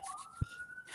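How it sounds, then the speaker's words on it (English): A police siren wails faintly in the distance, a single rising tone sweeping upward with a brief thump partway through. "Sorry for the sirens, guys."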